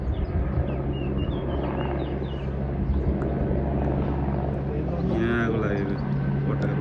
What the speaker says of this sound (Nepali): 5 मिनटमै कहाँबाट हेलिकप्टर बोलाइसकेका तिनीहरूले